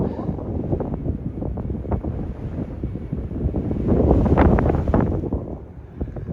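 Heavy wind on the Pacific Crest Trail buffets the camera microphone in rough, continuous low rumbles and gusts, swelling louder midway before easing slightly.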